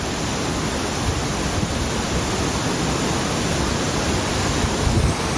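A waterfall on a loop trail roars with a broad, constant rushing wash of water, loud and steady with no break or talking.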